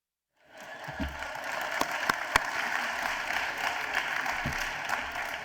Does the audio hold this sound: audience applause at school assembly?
yes